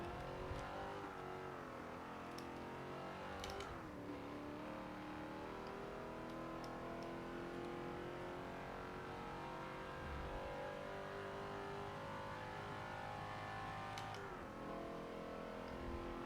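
Holden Monaro engine revving and roaring steadily as it races in a driving game, a continuous loud drone with rising and falling pitch sweeps and brief shifts between gears.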